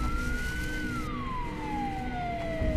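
A single siren wails with a long, slow sweep, rising briefly and then falling steadily in pitch, clear and fairly close over a low rumbling background, with no voices.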